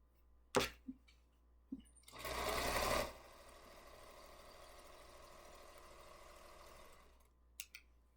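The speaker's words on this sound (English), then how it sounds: "Isn't it fun watching me sew?" A domestic sewing machine stitches a table runner: a few sharp clicks, then a steady, faint mechanical whirring hum that runs for several seconds before stopping with a couple of final clicks.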